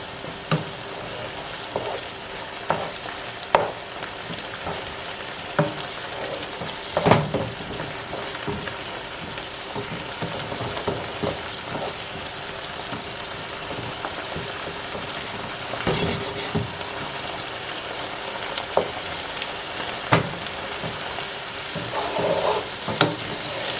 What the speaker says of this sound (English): while this vegetable continues to fry